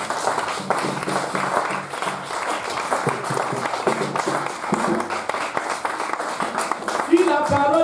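A church congregation applauding and acclaiming the Lord Jesus, a sustained wash of clapping and crowd cheering, steady and loud, with voices calling out throughout.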